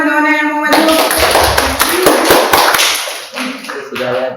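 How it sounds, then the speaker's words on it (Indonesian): Classmates in a classroom clap their hands together in a dense burst of applause lasting a few seconds, between moments of a teacher's voice speaking. "Tepuk tangan kawan yang mau maju."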